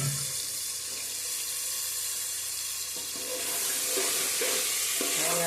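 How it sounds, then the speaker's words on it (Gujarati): Washed cauliflower, aubergine and peas being turned in hot oil, giving a continuous broad sizzle with soft scraping stirs that builds louder toward the end. "હવે આપણે એને તેલમાં ફેરવી લઈશું"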